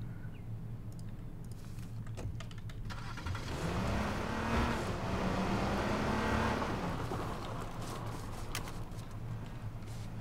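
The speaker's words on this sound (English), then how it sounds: "I'm just gonna grab the other car." A car engine in the H1Z1 King of the Kill video game hums steadily, then swells and revs up midway through before settling again, with scattered clicks and thumps.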